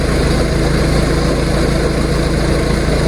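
A John Deere backhoe engine idles while warming up on a snowy day, giving a steady, close, loud diesel rumble with no change in pitch and no talking.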